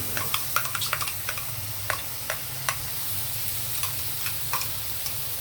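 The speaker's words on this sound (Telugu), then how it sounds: "ఇదిగోండి, టమాటో ప్యూరీ ఇందులో వేసేసాను." Tomato puree frying with chilli powder and spices in a pan of oil for a soya chunk curry, giving a steady close sizzle broken by sharp clicks and scrapes of a stirring spoon, with no voices.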